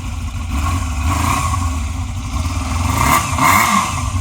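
A Yamaha Zeal 250 four-cylinder 250cc motorcycle revs close by through its exhaust, a loud, buzzing engine note that holds steady and then climbs in a couple of rising revs without any talk.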